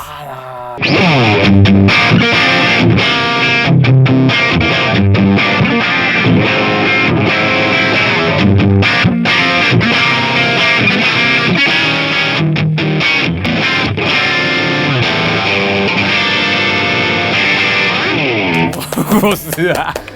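Electric guitar through a BOSS overdrive pedal at full drive: heavily overdriven chords and riffs played loud and continuously for about twenty seconds, thick and saturated, with a brief pause near the end.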